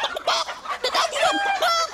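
A hen clucking close by, a short run of quick, squawky clucks and calls lasting about two seconds.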